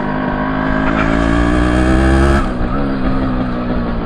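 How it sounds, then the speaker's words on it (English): A Yamaha Gear two-stroke motorcycle engine from the 1980s revs hard and loud up close, a buzzy sustained drone that holds steady, then drops suddenly near the end. "obviously being a two-stroke, it's got a lot of power on the bottom end instead of the top end"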